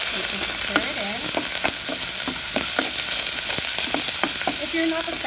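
Garlic paste and red chili frying in a pan, stirred for spicy shrimp in toum and mitmita, with a continuous loud sizzle broken by repeated sharp spatula scrapes and clinks in irregular rhythm.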